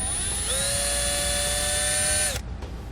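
A drill bores a 3.5mm pilot hole while installing a Redarc Tow-Pro Elite trailer brake controller in a 2009 Chevrolet, a close, steady high whine that cuts off abruptly near the end.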